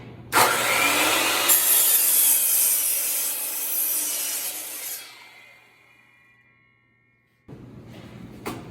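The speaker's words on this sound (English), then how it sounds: "We're going to let it get full RPMs, go down, and then push forward." A saw blade spinning at full speed cross-cuts a piece of wood for a boat paddle, a loud sustained rasping cut that fades as the blade winds down, then a brief burst of machine noise near the end.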